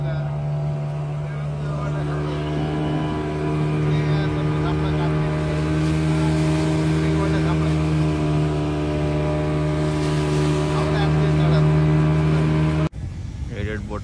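A motorboat engine runs steadily with a strong, even hum, loud and close throughout and cutting off abruptly near the end, with voices talking over it.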